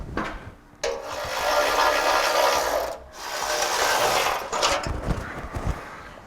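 A ratchet backs out 10mm bolts while installing a Demco Autoslide 5th wheel hitch on a Ram truck: two long, loud, close bursts of rapid clicking, then shorter choppy ratcheting strokes.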